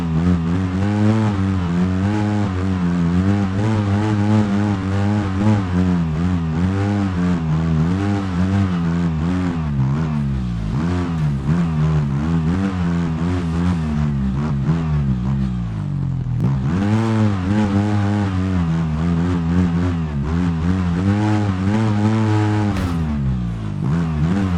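In the Overpass video game, an off-road vehicle's engine drones steadily over a seesaw obstacle, rising and falling in pitch with throttle changes and never stopping, loud and close with no talk.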